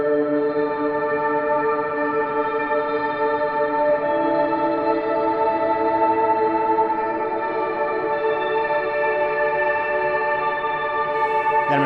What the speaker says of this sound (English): Now I'm going to go to my bridge pickup and dig in a little bit more.